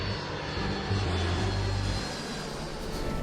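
A fixed-wing airplane engine drones steadily in flight, a continuous loud hum with shifting low tones and no voices.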